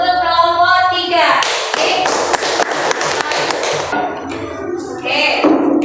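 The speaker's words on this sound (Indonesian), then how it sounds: "Beri aplaus yang meriah dulu untuk kelompok 3" Classroom applause for a student group during an Islamic religious education lesson, a burst of brisk hand clapping lasting a few seconds, framed by voices speaking before and after.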